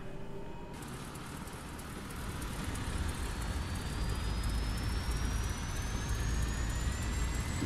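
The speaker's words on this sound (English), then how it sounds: "Pause that music for hear the engine start up." A light general-aviation aircraft engine in Microsoft Flight Simulator starts up, building from a low rumble into a steady, loud drone with a slowly rising whine over several seconds.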